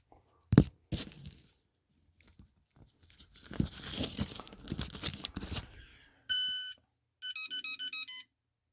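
A short electronic beep melody of clear tonal chirps plays near, after some rustling and handling noises, as a battery is plugged into a radio-controlled Wanderer sailplane model.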